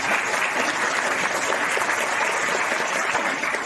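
Sustained applause from a crowd welcoming the chief guest and honoured guests at a district-level labour cooperative society meeting at Gandhi Smruti Bhavan in Phulbani, a steady dense clapping throughout.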